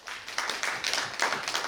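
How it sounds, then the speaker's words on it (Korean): Applause at an academic conference as a discussant is introduced, moderately quiet clapping from a seated audience with uneven bursts of claps. "큰 박수 부탁드립니다."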